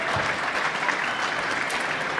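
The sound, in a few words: applause for a speaker at a banquet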